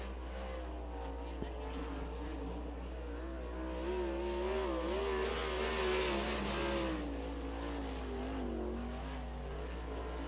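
A single race car runs a qualifying lap at Lincoln Speedway during PA Speedweek, its engine a steady droning whine that rises and falls through the turns over continuous crowd and track noise, moderately loud and sustained.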